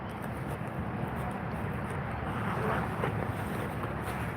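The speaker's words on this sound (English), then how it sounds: "Yeah, windy, man." Steady wind rushes and buffets against the microphone outdoors, a continuous low roar with little variation in loudness and no voices.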